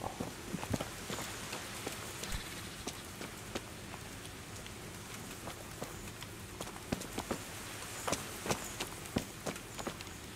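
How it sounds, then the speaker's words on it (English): Horse hooves thud in a medieval video game world, irregular soft footfalls scattered over a quiet outdoor ambience, some steps sharper and nearer than others. "I hear horse footsteps."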